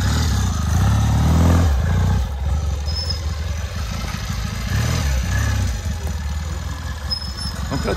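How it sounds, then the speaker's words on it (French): Vintage trial motorcycles, Fantic, Honda and Bultaco among them, ride at a trial training course, their engines loud and close with continuous rough idling and throttle swells that rise and fall throughout. "Toutes les motos sont là, les vintage, les Fanti, les Honda, les Bultaco."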